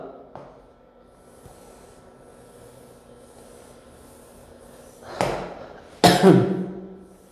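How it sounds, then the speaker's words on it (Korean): Two sharp, loud coughs near the end after a stretch of quiet room noise, each a harsh burst close to the listener. "아이고, 기침이 나오네"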